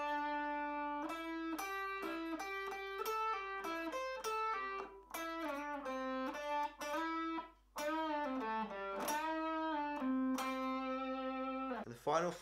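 Electric guitar plays the closing phrase of the solo, a run of clear sustained single notes with bends and slides, unaccompanied and moderately loud, with a brief flurry at the very end.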